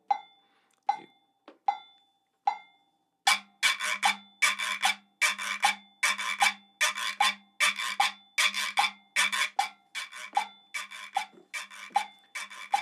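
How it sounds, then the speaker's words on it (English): A reco reco scraper is rasped in a steady rhythmic pattern, each stroke a short gritty scrape, after a few sparse taps at the start; played alone, close up. "Let's record the Reco Reco."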